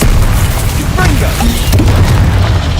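Loud, continuous booming blasts of the Confringo fire spell in Hogwarts Legacy combat, a dense rumbling barrage with a voice speaking over it.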